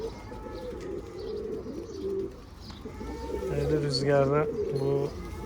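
Pigeons cooing near a balcony, repeated soft throaty coos in bursts, close and moderately loud, with a person speaking over parts of it.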